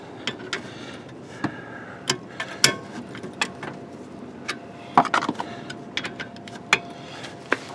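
Wrench work on a brake caliper bolt of a 1991 Honda Accord, with sharp intermittent metallic clicks and ratchet-like ticks scattered irregularly, fairly quiet and close.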